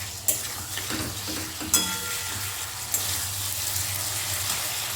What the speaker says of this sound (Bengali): দিয়ে সমস্তটা খুব ভালো করে মিশিয়ে নেব আর সামান্য 2 থেকে 3 মিনিট মতো একটু মশলাটা কষে নেব আগে